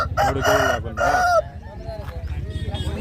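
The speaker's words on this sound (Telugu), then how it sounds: "ఇటు పక్క చాలా ఉన్నాయి పుంజులు" At the Gudur rooster market, roosters crow loudly and close in two overlapping calls, followed by a low rumble of crowd noise and further distant bird calls.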